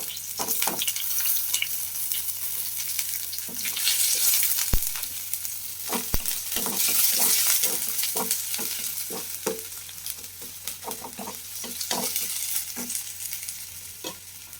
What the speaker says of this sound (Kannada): ಈರುಳ್ಳಿ ಹಾಕಿದ ಮೇಲೆ ಚೆನ್ನಾಗಿ ಫ್ರೈ ಮಾಡ್ಕೋಬೇಕು